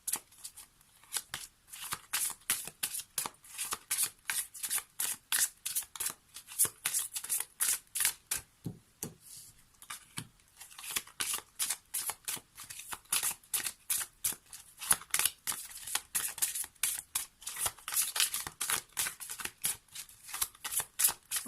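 Oracle cards being shuffled by hand for a card reading, a long run of quick, crisp riffling flutters repeating in steady bursts, close and alone with no talking.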